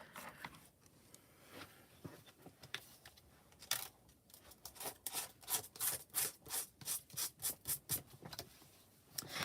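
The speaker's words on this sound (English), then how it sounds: "Let me scrape off my little pieces here quick." Leftover paper scraps scraped off a sticky cutting mat: soft, close rasping strokes, sparse at first, then a quick regular run of about a dozen scrapes.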